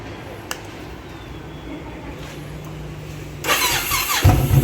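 A motorbike engine starts after a new battery is fitted. After a quiet stretch the starter kicks in and the engine catches, rising to a loud, rough idle close by.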